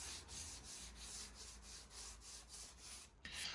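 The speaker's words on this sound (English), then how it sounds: "I just got a 120 grit sandpaper on my mouse pad here, and I'll just go over everything" Wood is hand-sanded with 120 grit sandpaper wrapped on a mouse pad, faint rhythmic back-and-forth rasping strokes at a steady pace, close up, ending in a brief louder scrape.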